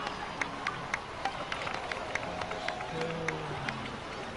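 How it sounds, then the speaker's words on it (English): Scattered clapping from a crowd in the video game Genshin Impact patters along at moderate volume, with a soft low tone humming underneath. "please give another round of applause for them"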